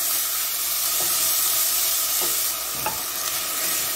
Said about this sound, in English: we don't want the onions to actually burn, we just want them to cook slowly